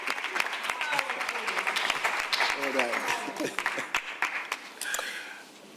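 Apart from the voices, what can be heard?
conference audience applauding speakers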